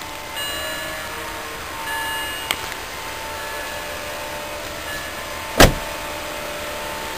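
A BMW 325xi car door shuts with one solid thud near the end, preceded by a fainter click, over a quiet steady background hum.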